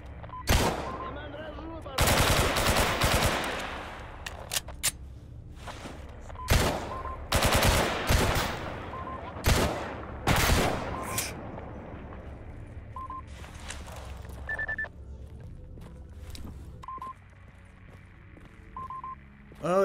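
Gunfire in the S.T.A.L.K.E.R. video game: loud, close bursts of automatic fire in clusters, then sparser single shots, with short electronic beeps and quieter stretches between.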